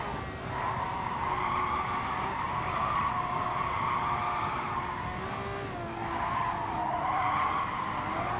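A car in the Gran Turismo Sport racing game is driven in third gear on partial throttle, its engine droning steadily and continuously while tires squeal and skid throughout, with no talking.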